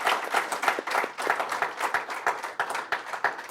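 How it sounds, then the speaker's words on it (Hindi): An audience applauds at a live Uttarakhand talk show, many hands clapping loud and close in a dense, continuous burst that keeps going without a pause or any speech. "एक बार उसके लिए जरा जोरदार तालियां भाई"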